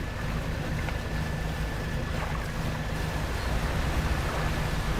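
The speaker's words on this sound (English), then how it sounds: "Engine sounds way different too." A fishing boat engine in the video game Dredge hums steadily, a constant low droning rumble mixed with washing water and airy wind noise, even and unbroken throughout.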